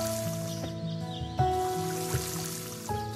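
Plants get watered in the video game Doraemon Story of Seasons, short splashing effects repeating every second or so over soft game music.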